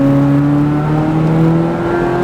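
A Corvette C8 Z06 on a track at Nashville Superspeedway, its engine droning steadily and loudly with a sustained tone that rises gradually as it accelerates, with no voices present.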